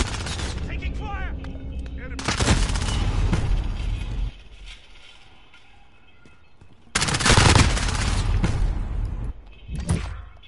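Sustained automatic gunfire in a first-person shooter game during a 1v1 match, coming as two loud, dense bursts of about two seconds each, separated by a quieter lull and followed by a shorter closing burst.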